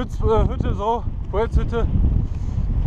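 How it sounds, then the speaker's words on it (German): Strong wind blows on a mountain hike on the Munich to Venice trail, a loud, continuous low buffeting rumble against the microphone beneath someone speaking. "Aber es ist ultra windig."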